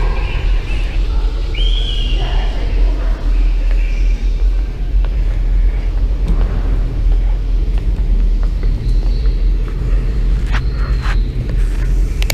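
A car rolls along the Wildlife Loop road in Custer State Park, South Dakota, its steady low engine and road rumble continuous throughout, with wind buffeting the microphone and occasional faint rattles and bumps from the cabin.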